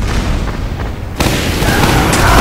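Chaotic firefight in the video game Team Fortress 2, with dense booming blasts and gunfire that turn into a louder, sustained wall of explosions partway through.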